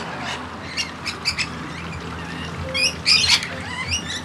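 Birds at a bird sanctuary in Brisbane in autumn call in short repeated squawks and chirps, the loudest bursts near the end, over steady outdoor ambience, with no voices.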